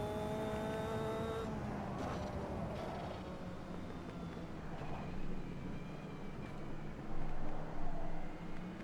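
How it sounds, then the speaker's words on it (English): Race cars in the Automobilista 2 sim racing game, in a Caterham multi-class race with 300 HP cars near the pit exit, drone and whine, with engine pitch shifting and a louder pass swelling near the end under steady motor noise. "Got some cars coming out the pit here."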